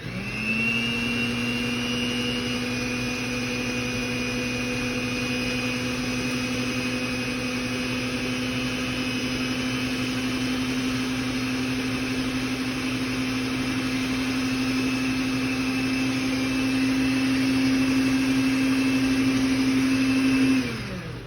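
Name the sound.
mixer mixing batter after adding milk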